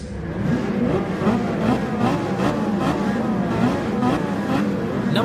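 Racing car engine from the video game Gran Turismo 7, a steady whining drone with rising and falling pitch sweeps as gears change, loud and continuous without talk.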